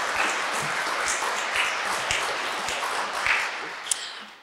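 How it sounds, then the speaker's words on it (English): An audience at a fall community gathering gives a round of applause, a moderate, steady wash of clapping lasting several seconds with a few sharper claps standing out before it fades. "let's give him a round of applause."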